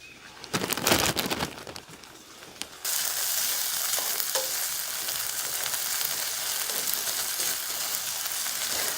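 Potatoes with peppers and onions fry in a pan, a steady, dense sizzle that starts abruptly after a few seconds of quieter handling noises and then holds evenly close by.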